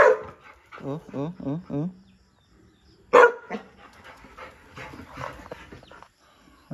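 A dog barks four times in quick succession, followed by panting and a short whimper, with people talking over the latter half.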